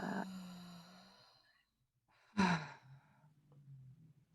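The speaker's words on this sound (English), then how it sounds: "letting some sound out as you exhale." Audible sighing exhales during a guided breathing exercise, one long voiced breath out at the start and another sharper, louder sigh midway, close and intimate with quiet pauses between.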